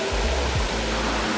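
Junapani waterfall flowing, a loud continuous rushing roar of falling water heard close and unbroken.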